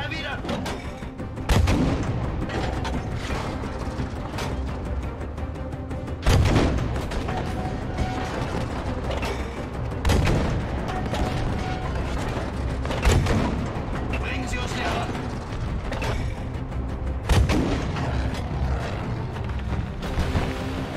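Gunfire and heavy artillery booms from the World War II shooter Battlefield V, with repeated loud blasts and rattling shots over a dense battle din while soldiers shout in German.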